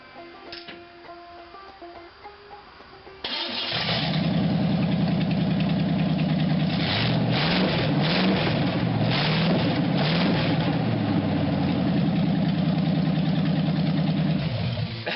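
A pulp wood truck engine cranks over and catches at about three seconds, then settles into a loud, steady idle with a rough, lumpy rhythm that holds close up until the end.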